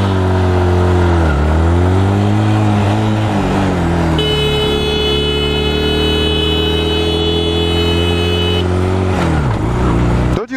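A Honda Rebel motorcycle engine drones loud and close throughout, its pitch dipping and climbing as the rider rolls off and accelerates, with a steady buzzing tone layered over the middle stretch.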